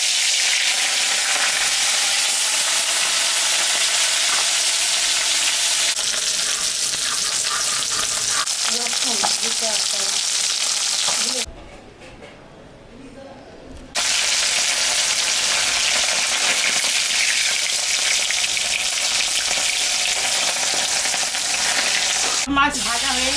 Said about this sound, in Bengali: তেলটা গরম হয়ে গেছে, মাছটা আমি এখন ছাড়বো।